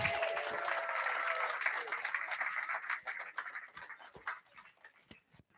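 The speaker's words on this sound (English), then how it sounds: "let's give them a round of applause to our graduates" Applause from an audience at a graduation ceremony, steady at first and then thinning into scattered claps that fade out near the end.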